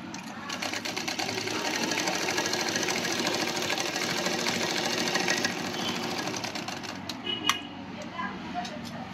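A Merritt Workmate sewing machine stitches with a steady, fast mechanical whirr that runs continuously for most of the span, then stops near the end, leaving a few faint clicks.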